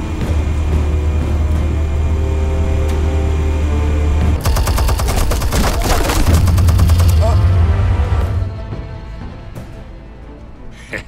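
Rapid gunfire and explosive bursts from Batman: The Telltale Series, the first episode Realm of Shadows, loud and dense over a low game rumble, with a sharp burst of shots in the middle before fading to quieter ambience.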